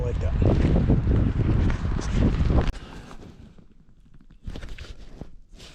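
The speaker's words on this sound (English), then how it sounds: "It's getting a little windy here and I don't like that." Gusty wind buffets the microphone outdoors high in a tree during climbing, loud rushing bursts that drop off partway through and then return in a shorter gust.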